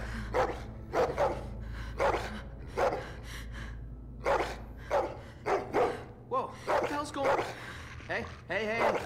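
A dog in The Walking Dead video game lets out a string of short, loud barks and yips in uneven bursts, with some whimpering mixed in between, alongside spoken game dialogue.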